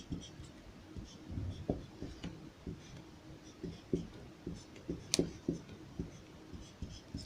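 Handwriting during a chemistry lecture on the oxidation of alcohol, a steady series of soft scratching and tapping strokes from a pen on a writing surface, heard close up and fairly faint with little or no speech.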